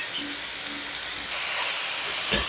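Grated carrot dropped into hot ghee sets off a steady, close sizzle and hiss that swells partway through, with a brief clatter near the end and no speech.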